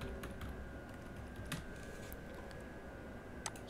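Someone types an admin login and password on a computer keyboard, giving quiet, rapid key clicks in short bursts over a low room hum, with a slightly louder keystroke near the end.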